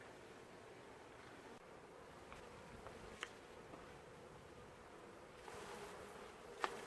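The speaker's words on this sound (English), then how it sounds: "I've noticed that there's a lot of wasps around." Faint, steady insect buzzing hovers in the background, with a few brief louder passes as wasps fly close by; no talking.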